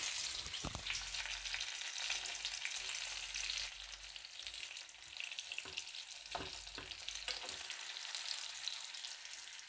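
Stuffed green chillies frying in a covered pan over a low flame, giving a soft, even hiss with a few louder crackles and spatters, no voices present.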